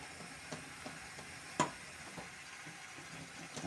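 Mushrooms sprinkled with a little paprika fry gently in a pan, giving a faint, steady sizzle with a few soft ticks and one brief clink, no talk.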